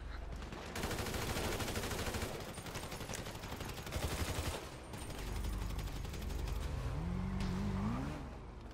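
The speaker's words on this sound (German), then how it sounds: "jetzt schießen wir die einfach mal nieder hier" Rapid automatic gunfire rattles in GTA Online, with dense bursts of shots mixed with car engine noise and revving, fairly quiet overall and with no talking over it.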